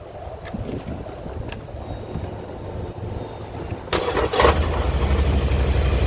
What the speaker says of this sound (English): Go ahead and crank this thing up for y'all, let y'all hear this thing.